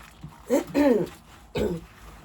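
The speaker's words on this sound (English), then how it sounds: "I'm still coughing because of my cold." A few close, rough coughs from a person with a cold come in short bursts with brief pauses between them, in an otherwise quiet room.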